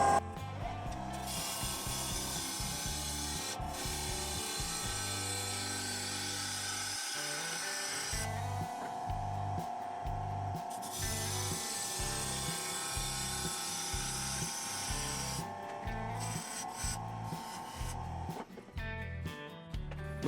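Wood lathe spinning a goblet blank at 2000 RPM, a steady close mechanical whir with a rapid rhythmic rattle and bursts of hissing tool contact as the piece is cut.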